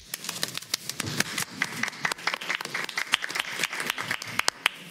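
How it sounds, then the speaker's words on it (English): A handful of attendees clapping at a school board of education meeting, sparse and uneven individual claps close by, fairly quiet, with a faint voice briefly underneath. "We're clapping for data, man."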